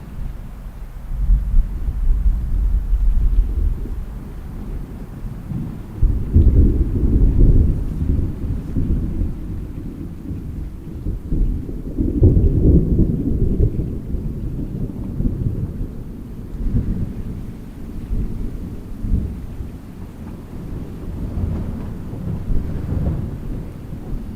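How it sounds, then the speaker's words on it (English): Thunder from a thunderstorm in a canyon rolls as a deep, continuous low rumble that swells and fades over about twenty seconds, distant and heavy, with wind buffeting the microphone. "Lightning over there, but it's missing me for now."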